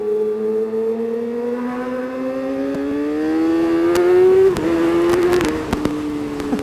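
A 2019 Kawasaki ZX-636R pulls hard with a steady rising engine whine, then a sharp clipped quickshift and a few crackles near the end, heard up close with no talking.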